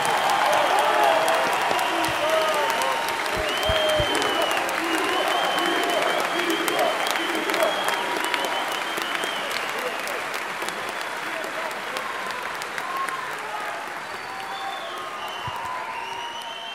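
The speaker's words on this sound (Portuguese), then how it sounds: "Uma salva de palmas para o Chilon, pessoal." Sustained applause from a large audience at a Bolsonaro political rally in Volta Redonda, dense clapping that stays steady and loud throughout with crowd noise and some voices mixed in.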